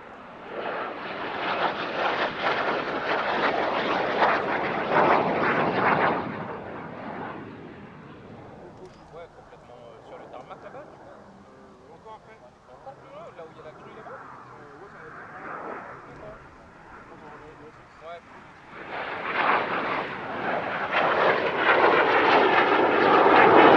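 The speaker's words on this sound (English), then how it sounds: "considered to be the best variant of the Sabre ever produced" A Canadair Sabre jet fighter with an Orenda 14 engine flies at an airshow near Paris, its loud engine roar fading away, dropping to a distant murmur in the middle, then surging back up loud at the end.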